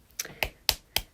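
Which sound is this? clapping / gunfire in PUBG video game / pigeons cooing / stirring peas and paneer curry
clapping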